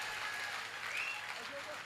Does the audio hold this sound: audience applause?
yes